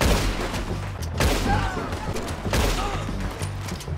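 Two loud gunshots in Red Dead Redemption 2 crack out about a second and a half apart, each trailing into echoing rumble over continuous low background noise.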